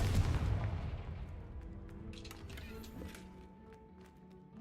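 A Confringo blasting spell cast in Hogwarts Legacy, a booming burst that opens loud and decays into a fading rumble with faint magical tonal shimmer trailing after.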